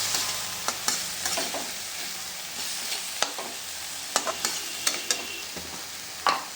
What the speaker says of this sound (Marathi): शिमला मिरची मी छानपैकी परतून घेतलेली आहे.